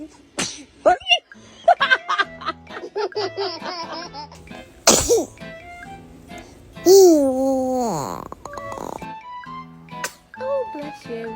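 A baby sneezes several times in short, sharp bursts scattered through the clip, close and loud, mixed with babbling, giggles and an adult's repeated responses.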